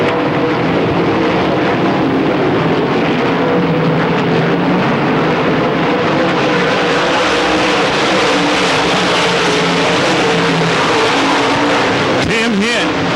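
Race cars roar around a dirt track in a 1995 heat race, a dense, continuous engine drone filling the air with a brief closer pass near the end, under race commentary.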